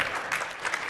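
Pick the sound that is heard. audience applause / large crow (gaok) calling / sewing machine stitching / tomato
audience applause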